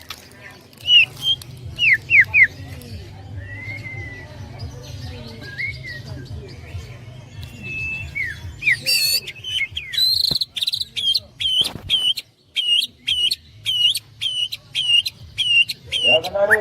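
Several canaries sing in bright, rapid trills and chirping phrases, sparse at first and then a dense run of repeated high notes, with faint insect-like buzzing and a low hum underneath.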